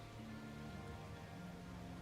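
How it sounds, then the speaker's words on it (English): Steady rain falls in the Roadcraft video game, a constant broadband hiss of drops with low rumbling underneath, continuous and fairly even throughout. "here comes some more rain"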